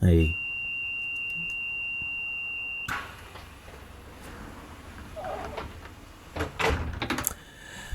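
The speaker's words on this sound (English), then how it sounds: "Doors will be closing momentarily, and we'll see if there is a buzzer" Passenger doors on a Class 142 train closing in Train Simulator Classic. A steady warning tone runs first, then a sharp thump and a run of mechanical clunks and rattles, with talk nearby.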